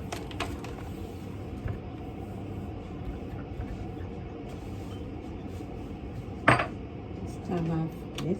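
Dishes, pots and cutlery clatter in a home kitchen during cleanup while potato gratin is being made, scattered clinks and knocks over a steady background rumble, with one sharp louder clang near the end.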